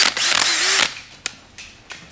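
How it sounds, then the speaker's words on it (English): Milwaukee M12 cordless drill whirring in one short, loud, close burst for under a second, followed by a few light clicks and knocks, at a copper plumbing job. "Want to drill our pipes?"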